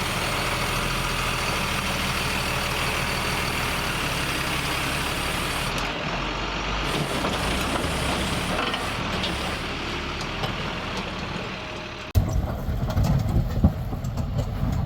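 A truck engine rumbles steadily while hauling a trailer away, a loud, continuous low drone that shifts partway through and ends with a louder, rougher surge.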